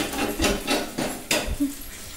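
Scraping a stuck dosa off a hot griddle with a metal spatula: repeated short rough scrapes at a steady rhythm, close and fairly loud, with no talk.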